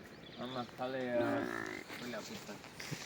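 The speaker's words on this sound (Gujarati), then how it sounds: "ગાય પણ બહુ સારી છે, હોજી છે, દેશી ગાય." A desi cow lows in several drawn-out moos, loud and close, one after another with short gaps and a fainter call near the end.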